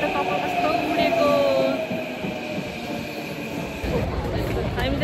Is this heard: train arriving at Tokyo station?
yes